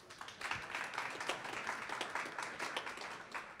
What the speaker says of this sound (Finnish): kunnon aplodit nyt hänelle